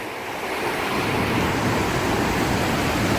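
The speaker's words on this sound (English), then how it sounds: "I bet you guys can barely hear me over the rushing waterfall here" A steady, loud roar of Blakiston Falls fills the whole stretch, a dense broadband wash of falling water with no voices.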